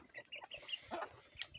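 A mother hen with her two chicks gives short soft clucks in quick bursts, close by and fairly quiet, with no talking.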